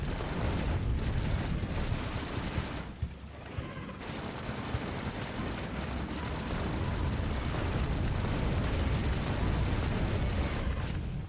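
Fire-spitting bugs exploding on the volcanic planet Vulcanus in Factorio: Space Age, a dense, continuous roar of overlapping blasts and rumbling bursts that dips briefly near the three-second mark before surging back, loud throughout.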